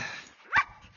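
A single sharp dog bark rings out close by, preceded by a faint whine.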